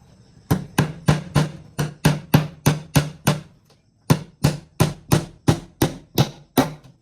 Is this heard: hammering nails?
yes